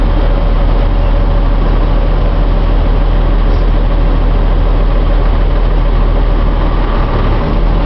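A tractor engine idles close by in a loud, steady low rumble with a constant even drone and no breaks, no speech over it.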